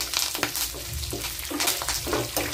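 Curry leaves sizzling in hot oil with lightly browned dals while making Andhra-style beetroot chutney, a steady close crackle with bursts of stirring and scraping in the pan, no talking.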